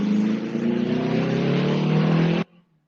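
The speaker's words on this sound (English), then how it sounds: "Motorcycles, gotta love them." A motorcycle roars past close by, a loud steady engine drone with rising revs that cuts off abruptly after about two and a half seconds, leaving near silence.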